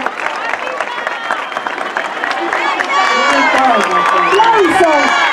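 A crowd applauds and cheers for Marta at the inauguration of the Arco de Balá in Ituzaingó, clapping mixed with shouts and children's voices that swell louder partway through, a few voices calling out over the din.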